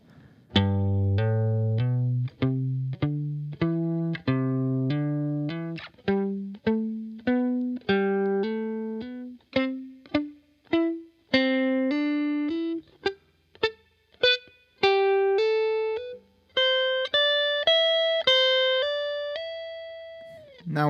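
A distorted electric guitar plays a melodic lick of separate picked notes climbing steadily higher, each note cut short and muted, heard alone.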